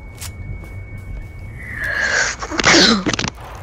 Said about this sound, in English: Oops, that was a sneeze.